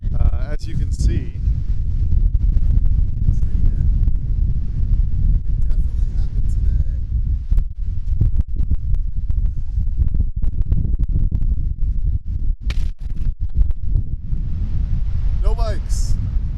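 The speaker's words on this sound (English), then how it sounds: "So it's very windy at the beach today, as you can see." Strong, steady beach wind buffets the microphone in a continuous low roar, with a few faint voices and scattered brief sounds breaking through.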